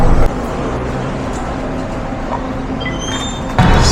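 A Manila LRT train rumbles steadily up close, with a dense, loud rolling roar, a brief shift at the start and a rising screech toward the end.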